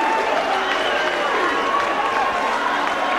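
Crowd in a marquee at a boxing bout applauding and roaring after the fight, a continuous dense wash of clapping and cheering at steady loudness, with a commentator's voice running over it.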